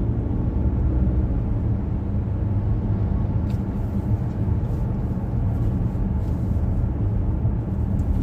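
Steady road traffic on Aruba Road in Riyadh, a continuous dense rumble of engines and tires heard close and loud throughout, with no voices.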